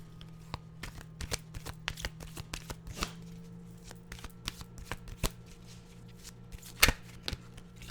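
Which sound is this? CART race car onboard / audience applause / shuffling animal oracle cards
shuffling animal oracle cards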